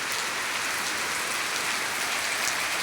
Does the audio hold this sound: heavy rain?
yes